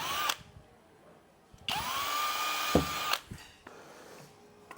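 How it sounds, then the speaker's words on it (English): Two bursts of a power drill with a 3mm bit whining as it bores through plastic interior panels of a Land Rover Defender, each a second or so long, with quiet handling noises between. "3mm drill bit, and you'll see on the panels, we've actually got some dimples on here to show where we drill through"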